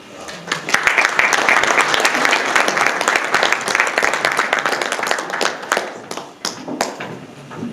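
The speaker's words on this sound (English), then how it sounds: "Please, a round of applause once more for Mr. Damien Diallo" Dense, sustained audience applause at a France–Ghana investment promotion business meeting, with many close, overlapping claps holding steady before thinning out and tapering near the end.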